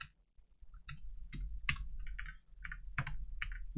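Typing on a computer keyboard while writing code: a quick, uneven run of sharp key clicks, close and distinct, with short pauses between bursts.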